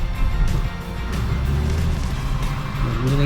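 A used Hyundai Sonata DN8 on a test drive, heard from inside as a steady low engine and road hum with gently shifting tones, without talk.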